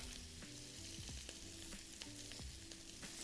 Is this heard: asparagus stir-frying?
yes